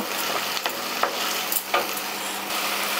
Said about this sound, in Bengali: এবার পেঁয়াজ কাঁচা লঙ্কা আদা রসুন একসঙ্গে বেশ কিছুক্ষণ ধরে একটু কষিয়ে নেব।